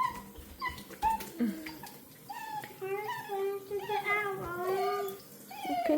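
Basset hound puppies whimper and whine in high, wavering cries during a bath, several overlapping thin yelps close by over faint splashing, with a few voices in the background.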